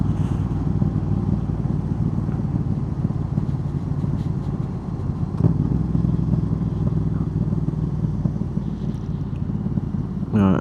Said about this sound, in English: This exhaust is loud enough to wake the dead in that graveyard I've just passed